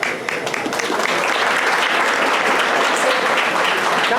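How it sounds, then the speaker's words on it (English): Audience at an Indian technical institute talk claps steadily, a dense, fairly loud burst of applause filling about four seconds with a few voices faintly mixed in. "Give him applause"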